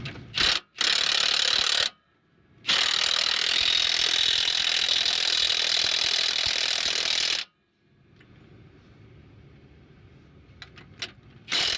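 A jumbo wrench snugging 1.5-inch bolts on a panhard bar of a 1984 Wanderlodge bus, giving loud bursts of rapid ratcheting clicks separated by brief pauses, then quieter shop background with a few faint clinks.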